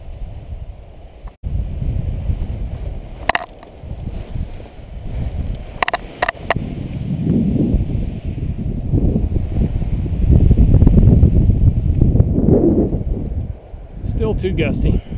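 Gusty wind buffeting a microphone at a paragliding field, rising and falling in strong roaring bursts with low rumbling surges, loud and close throughout.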